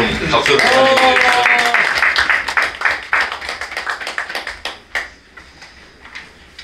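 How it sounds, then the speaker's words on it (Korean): Clapping from a group starts under a speaking voice and continues as scattered applause, fading toward the end, at a press conference in a seminar room. "나오시면 좀 박수를"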